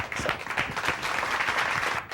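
Audience applause for a guest DJ on a hip-hop talk show, a dense, steady wash of clapping that holds at full strength for about two seconds before dipping slightly at the end.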